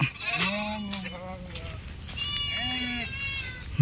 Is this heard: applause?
no